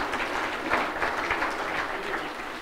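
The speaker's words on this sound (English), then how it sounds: "Round of applause for the North Dakota Cowboy Hall of Fame employees and staff" A ceremony crowd at the 2017 North Dakota Cowboy Hall of Fame claps for the staff and employees, a dense, even wash of applause from many hands, fairly loud and unbroken throughout.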